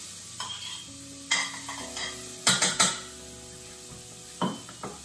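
Diced onion and minced garlic going into a soup pot for black bean soup, with a spoon clattering against the pot and a few sharp clinks over a soft, low sizzle; no voices.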